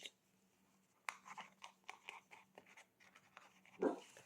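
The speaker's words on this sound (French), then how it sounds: "Ah, c'est mon chien qui se déclenche." A dog pants and shifts about nearby indoors, quick soft breaths and scuffling, rustling movements in an irregular rhythm, fairly faint, ending in a louder stir.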